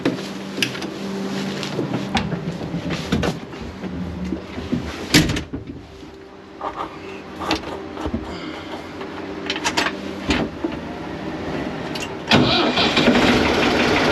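A Ford 4610 tractor engine cranks and catches, then settles into a steady, low mechanical rumble with a few clunks and rattles along the way.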